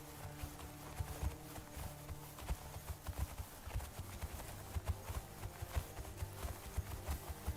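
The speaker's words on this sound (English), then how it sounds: "So many horses." Horses walk in Conan Exiles, a video game, with steady overlapping clip-clop hoofbeats at close range and no talk over them.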